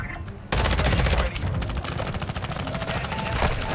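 Fast automatic bursts from the ISO 45 submachine gun in Call of Duty: Modern Warfare II, loud, close and sustained rapid fire with brief pauses between strings of shots.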